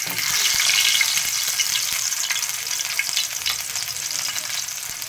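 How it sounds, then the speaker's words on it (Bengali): Fish fry in hot oil with a loud, continuous sizzle full of bright spitting crackles that ease slightly after an early peak. "সাবধানে আমি মাছগুলো ভাজতে দিয়ে দিচ্ছি।"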